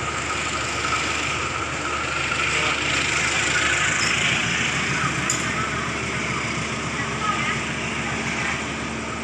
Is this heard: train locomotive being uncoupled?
yes